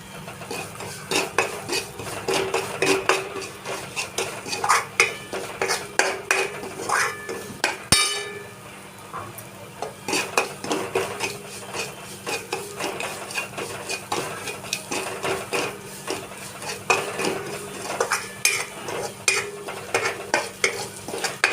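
Semolina roasting in a pan while a spoon stirs and scrapes continuously, with clinking metal against the pan and a soft frying hiss underneath, close and steady throughout with one brief sharp knock.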